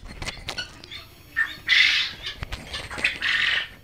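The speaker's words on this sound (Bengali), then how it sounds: "এখানে 300 পিস কোয়েল পাখি আছে।" Quails on a farm holding about three hundred birds give shrill, raspy squawks in short repeated bursts, close and fairly loud, with scattered clicks and rustles between calls.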